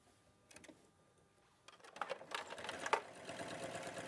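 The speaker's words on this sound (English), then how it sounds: "and then I'm going to sew that together" A sewing machine stitches fabric pieces together. It starts with a few faint clicks, then settles into a steady, close, rapid mechanical whirring run with a rhythmic needle chatter.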